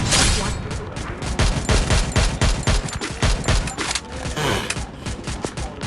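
Rapid bursts of AW gunfire in the Free Fire battle royale game, loud dense volleys of shots and booms running continuously with no pause.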